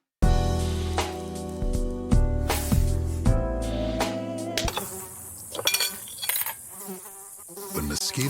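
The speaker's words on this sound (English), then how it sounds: "When mosquitoes show up," A mosquito buzzing sound effect in a Terminix pest-control advert, whining insect drone layered over loud musical stings and synthetic tones, continuous for about eight seconds with abrupt shifts midway.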